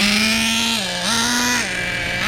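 A Traxxas Nitro Stampede RC truck's nitro engine fitted with an MIP exhaust screams at high revs, dipping and rising in pitch as the throttle changes, close and loud with no talk.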